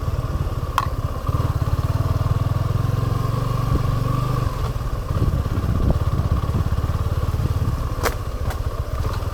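A Suzuki V-Strom 250 motorcycle engine runs steadily up close, a loud, even, throbbing drone throughout with a slight rise and fall in revs and no talking.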